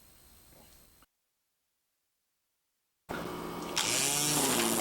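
A Ryobi One cordless trimmer, switched to edger mode, sits quiet for a moment, then bursts into a loud, close, high buzzing whine that holds steady to the end.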